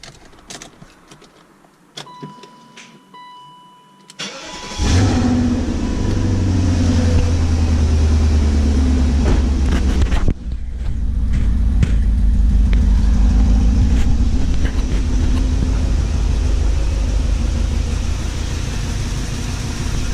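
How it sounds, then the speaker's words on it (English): A BMW rear-wheel-drive 4.4 liter V8 cranks and catches after a few seconds of quiet clicks, then settles into a loud, steady, raspy idle that carries to the end; the engine had been shaking at idle from a misfire. "I'm gonna start it and look at the engine and see how bad it's shaking"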